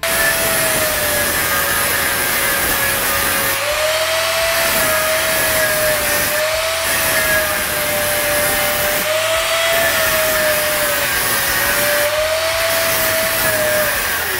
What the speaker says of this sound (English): just was grinding on this pipe